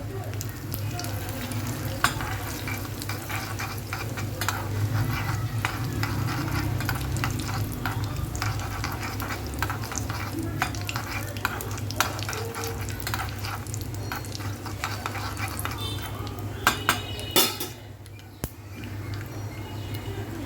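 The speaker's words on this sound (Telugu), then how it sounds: "తాలింపులో ఆవాలు వేస్తున్నాను, కొంచెం జీలకర్ర, కొద్దిగా ఇంగువ, కొంచెం చిటికెడు, తర్వాత కరివేపాకు" Mustard seeds, cumin, asafoetida and curry leaves sputter and crackle in hot oil for an Andhra tempering. A dense, continuous frying hiss with sharp popping runs close and steady, then thins briefly near the end, with no talking.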